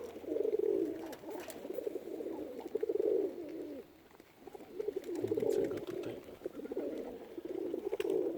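Flying pigeons of the Murzyn and Budapest breeds coo in repeated soft, throaty bursts nearby, with brief pauses between phrases; a person speaks quietly in between.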